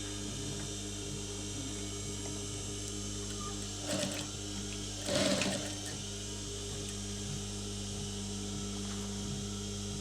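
An electric sewing machine stitching velour curtain fabric, a steady close mechanical hum and whir running the whole time, with two brief louder rattling bursts partway through.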